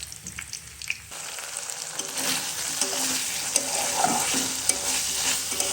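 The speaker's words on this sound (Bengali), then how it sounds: "গোশ আর আলুটা হচ্ছে একটু হালকা অল্প অল্প একটু মশলা দিয়ে পুরোটা কষাই নিচ্ছি ভালো করে" Beef and potato pieces with a little spice fry in a pan, a steady close sizzle running throughout, with scraping spoon strokes and light clatter as the mix is stirred.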